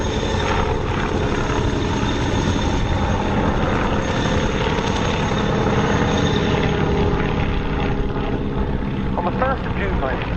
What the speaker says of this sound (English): a section of 3 Mark I Ansons like this, led by Pilot Officer Pete Peters